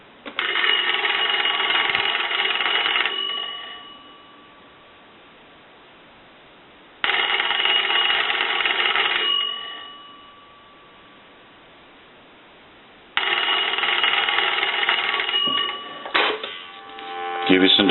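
Bells of an old Monarch wooden wall crank telephone ring loudly in three long bursts, each about three seconds with a short decay, separated by silent gaps, followed by a few clicks and clatters at the end.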